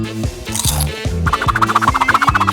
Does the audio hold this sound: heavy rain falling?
no